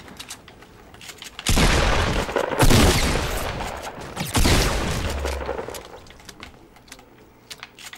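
Rocket launcher blasts and rapid gunfire in Fortnite Battle Royale: loud booming explosions burst in repeatedly around the middle, layered with crackling shots, then fade back to quieter ambient game noise.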